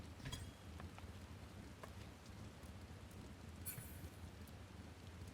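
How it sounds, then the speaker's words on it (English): Steady, soft rain falls in the Shadowbringers expansion of a fantasy game, a constant low hiss with faint scattered drops and light taps throughout, and no voices over it. "I like the sound of rain."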